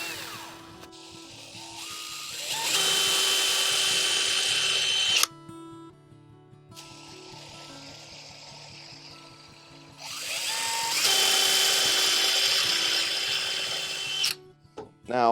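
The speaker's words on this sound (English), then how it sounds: "I want to pre-drill it as much as possible to prevent the grain from splitting on me" A power drill pre-drills a nail hole in wood for cellar door hardware on an 18th-century Maryland house, two sustained close whirring runs separated by a quieter pause, with music underneath.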